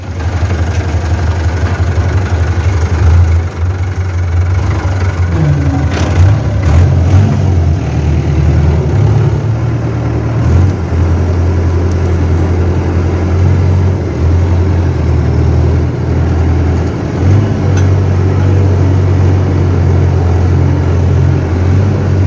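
A tractor engine idles steadily and loudly for the whole stretch in a rural outdoor setting, its low rumbling drone unbroken with only slight shifts in pitch.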